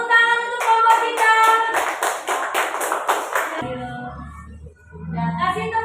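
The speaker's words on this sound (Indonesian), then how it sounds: "Tepuk tangan untuk kelompok kita." A classroom group claps together for a winning team, a run of brisk, evenly spaced claps over about three seconds, then voices of teacher and students talking.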